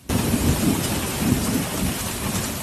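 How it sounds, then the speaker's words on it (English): A June hailstorm with quarter-size and larger hail pelts Tallahassee, Florida, making a dense, loud, continuous roar of rain and hail with low thunder rumbling underneath, and no voices. "Hail the size of quarters and even larger suddenly began pelting parts of the city."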